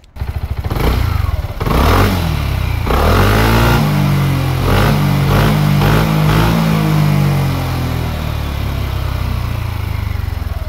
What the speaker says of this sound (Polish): Wydech, który bardzo ładnie brzmi.